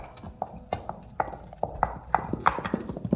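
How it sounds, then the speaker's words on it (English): Horses trot along a road ahead of a carriage, their hooves clip-clopping in a steady, fairly close rhythm of sharp knocks that grow slightly louder, with a faint whinny possible. "Listen, horses."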